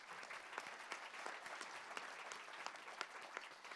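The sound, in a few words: audience applause for forum panel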